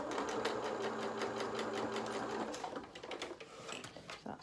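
Close, continuous whir of a sewing machine stitching a seam on a small doll's jacket, easing into lighter, uneven stitching in the final seconds.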